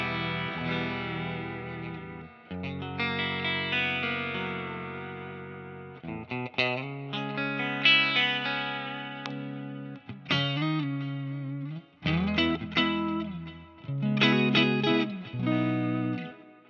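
A Stratocaster electric guitar plays through a tube amp with a very clean, undistorted tone, chords and melodic phrases ringing out alone with short pauses between passages.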